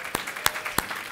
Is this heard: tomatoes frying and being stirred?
no